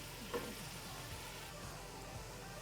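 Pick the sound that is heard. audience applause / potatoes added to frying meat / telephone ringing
potatoes added to frying meat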